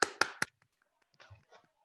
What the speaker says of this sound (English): I'd like to give you all a big round of applause.